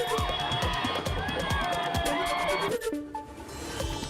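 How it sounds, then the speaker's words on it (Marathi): Crowd gathered at a city square chowk cheering and shouting slogans in celebration of a cricket match win, a dense continuous roar of voices close by, fading toward the end. "सोलापूरकरांनी छत्रपती शिवाजी महाराज चौकात एकत्रित येत जोरदार जल्लोष केला."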